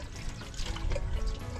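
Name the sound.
washing peeled cassava in water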